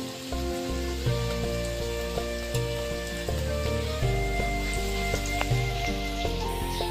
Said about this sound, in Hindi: प्याज को लाइट से ब्राउन करना है